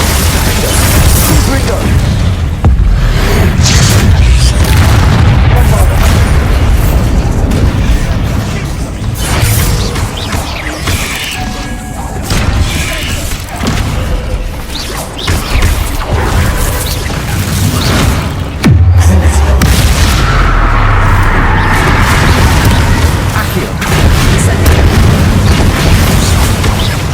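Spellcasting in Hogwarts Legacy combat, with fire, summoning, disarming and freezing spells heard as a dense run of loud booms, bursts and crashes with rumbling impacts, alongside battle noise and some voices.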